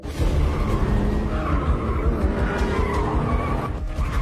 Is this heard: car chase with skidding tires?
yes